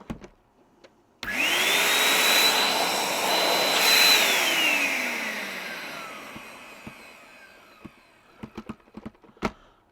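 A Numatic Allergy vacuum cleaner motor starts up close by with a loud whine, holds steady for a few seconds, then winds down gradually, followed by light clicks and handling noises.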